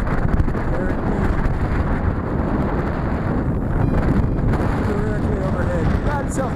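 Loud, steady gusting wind buffets the microphone during an outdoor flight of an MJX Bugs 3 Pro brushless GPS camera drone, a dense low roar that persists throughout, with a voice talking faintly beneath it.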